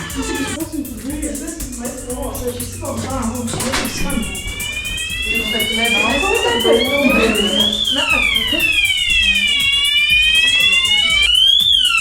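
A loud electronic fire alarm wails in rising and falling sweeps, growing steadier and more insistent, while people talk and move about underneath, at a ski lodge in Białka Tatrzańska, Poland.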